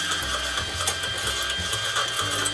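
A motor on a homemade glass bottle cutting jig spins a glass bottle, giving a close, steady mechanical whirr with a rhythmic rattling, ratchet-like clatter and no talking.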